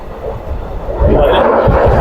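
A train running on a forest railway in the rain, rumbling close and loud with rhythmic low thumps of wheels on track that grow heavier partway through.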